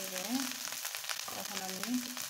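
Ginger frying in a pan with chicken, a quiet continuous sizzle with soft crackle and stirring, a voice speaking in brief bursts over it.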